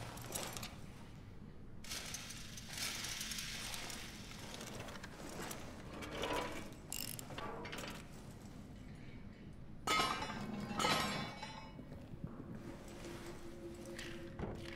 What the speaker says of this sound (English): Now, luckily I brought my wrench with me